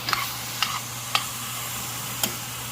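Meat, tomatoes and onions cooking in a pan, with a steady sizzle punctuated by four distinct spoon taps and scrapes against the pan at uneven intervals, alongside a low constant hum.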